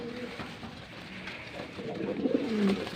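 Pigeons cooing at a small pigeon farm, a few soft throaty coos rising toward the end, close by over faint background noise.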